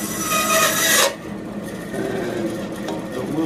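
A wooden sandpiper carving blank is hand-trimmed with a close, steady rasping scrape that cuts off after about a second, followed by quieter rubbing and faint scraping.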